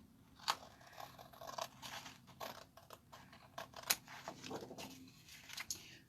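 Scissors trim a small strip of paper off a scrapbook page in several quiet, irregular snips and crunchy cuts, close up with light paper rustling between them.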